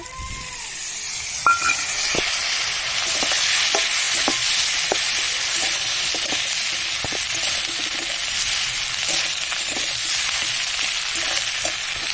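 Ginger paste hits hot oil in a pan with turmeric already fried, producing a steady loud sizzle with scattered stirring clicks and scrapes of a spoon, continuing alone without talk.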